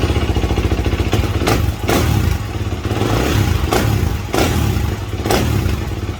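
A brand-new 2022 Kawasaki KX 450 dirt bike engine, fresh from the crate, runs loud and close with a rough, clattering idle broken by several sharp throttle blips that rise and fall.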